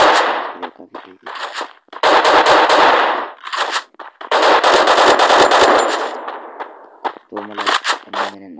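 Loud automatic gunfire in the Free Fire mobile battle royale game during a Clash Squad ranked match: long rapid bursts alternating with short, choppy volleys and brief pauses.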